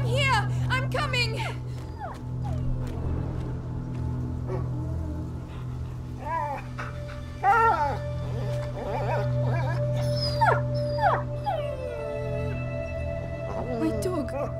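Dog whimpering and howling in A Plague Tale: Innocence, a rising, wavering cry repeated through the scene, with a steady low hum and game sounds underneath and voices speaking over it.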